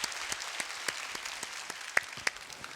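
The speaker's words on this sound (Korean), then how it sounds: "우리 큰 박수로 영광 한번 올려드릴까요?" Scattered, faint applause from a church congregation during a Baptist worship service, thin and sparse with a few sharper individual claps standing out over a quiet room.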